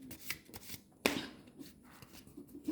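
Tarot cards are shuffled in a short, quiet riffle, with soft rustles and a single sharper snap near the middle, faint and close with no talking.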